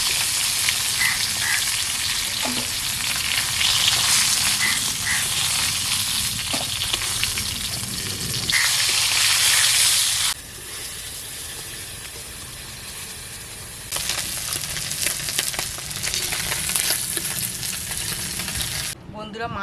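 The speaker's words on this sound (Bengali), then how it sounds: "বন্ধুরা মাছ ভাজা হয়ে গেছে," Rohu fish frying in oil in a pan in a home kitchen, a continuous close sizzle that swells and drops in intensity, with a few utensil taps and brief quieter stretches.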